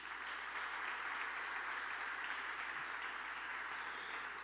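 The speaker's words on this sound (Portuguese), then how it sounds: "Dê um aplauso a Jesus." A church congregation applauds during a sermon, a dense, even patter of clapping held at a distance for several seconds.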